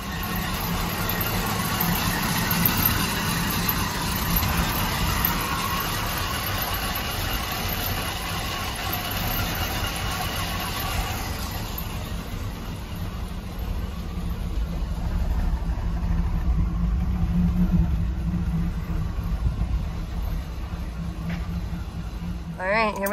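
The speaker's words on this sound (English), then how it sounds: "Let's crank her up, take her for a ride." A 1977 Pontiac Trans Am engine idles with a low, steady rumble, heard from close by, its tone shifting and settling partway through as it runs on.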